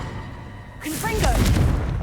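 A Confringo blasting spell detonates in Hogwarts Legacy, a sudden loud boom with a bright swooshing burst and rumbling low tail, rising out of a murky ambient background and lingering about a second.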